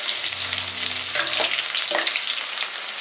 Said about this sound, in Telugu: ముందుగా సన్నగా కట్ చేసి పెట్టుకున్న ఉల్లిపాయ ముక్కలు 1 కప్పు వేసుకోవాలి.